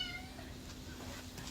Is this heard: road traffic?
no